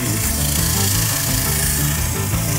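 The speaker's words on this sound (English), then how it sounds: "I'm just going to do these two sands, shut my lathe off" A wooden bowl of natural wood is sanded on a spinning lathe, giving a steady, loud, continuous rubbing hiss over the low drone of the turning machine, without pause and with no talking.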